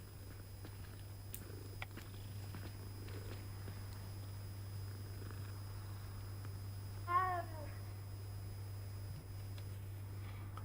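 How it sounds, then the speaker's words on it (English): A cat in the video game Hogwarts Legacy gives one short, faint meow over a low, steady hum and quiet background game sounds. "Kitty!"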